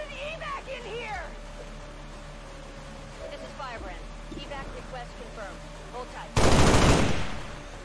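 Gunfire in the XCOM 2 video game, a single loud burst near the end that fades over about a second, following quieter game sounds and someone talking.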